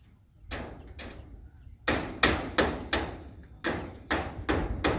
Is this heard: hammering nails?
yes